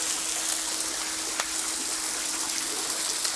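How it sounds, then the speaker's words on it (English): Cajun pork sausage and boudin sizzle and crackle in a hot pan, a steady dense hiss with occasional sharp pops, close up and with no voices. "It's sizzling and popping."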